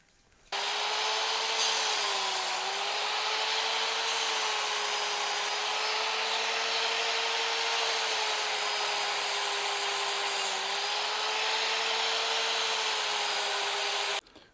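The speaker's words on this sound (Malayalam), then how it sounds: "ഇവിടെ നമ്മൾ ടൈൽ കട്ടർ ചെരിച്ച് വെച്ചിട്ടാണ് അതിന്മേൽ ഗ്രൈൻഡ് ചെയ്തിട്ടാണ് എടുത്തിട്ടുള്ളത്." A steady, loud grinding whine holds almost unbroken for about fourteen seconds as a tilted tile cutter grinds down the pole of a ceiling fan rotor magnet during a BLDC conversion, with a slight dip in pitch near the middle.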